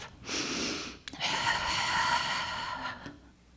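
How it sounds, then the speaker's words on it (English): Slow, deep breaths drawn in and let out during a guided meditation, each long airy breath close and clear with a short pause between them and no talking. "Breathing in faith, breathing out faith. Breathing in hope, breathing out hope"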